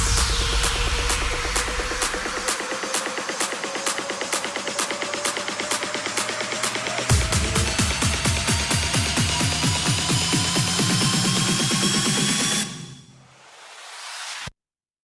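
EDM build-up drum pattern with a ground, distorted vocal: steady rapid hits accelerating into a denser roll halfway through, loud and continuous, then cutting off abruptly with a brief swelling tail.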